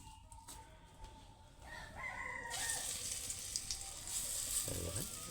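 Lentil fritters with paneer dropped into hot oil, a faint hissing sizzle that swells partway through, with a rooster crowing in the background.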